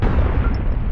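A loud, sustained grenade blast in the video game APB Reloaded, fired from a less-lethal grenade launcher, filling the whole moment with a dense, rumbling boom that holds steady without a clear attack or tail.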